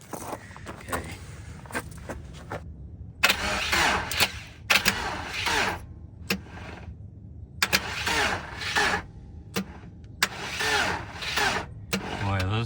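A Volkswagen Vanagon starter motor cranking through an undersized main starter cable on a low battery, heard as several separate labored cranking bursts of a few seconds each, with quiet gaps and small clicks between them.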